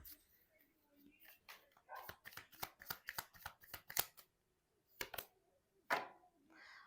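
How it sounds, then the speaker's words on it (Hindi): Dropped tarot cards being gathered up and shuffled by hand, a quick run of crisp flicks and slaps followed by a pause and a couple of louder riffles, close and fairly quiet. "ओके, वेट, सॉरी, कार्ड गिर गए।"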